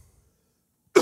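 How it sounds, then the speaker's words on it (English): A single short cough near the close, after a moment of near silence, during a podcast recording. "Sorry for coughing, guys."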